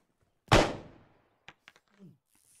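One sharp, loud gunshot in ARMA 3 rings out close by and decays over half a second. A few faint clicks and thumps and a brief murmur of voices follow.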